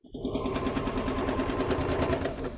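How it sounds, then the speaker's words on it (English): A home sewing machine runs steadily through a video call connection, its fast stitching whir continuous and fairly loud for the whole stretch. "Donna, can you mute yourself? Because every time you sew, we can't hear Fallon."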